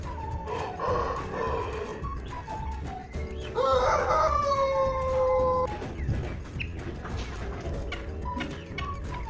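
A rooster crows loudly with a long rising and falling call mid-clip, while farm hens cluck and chatter around it against steady background noise.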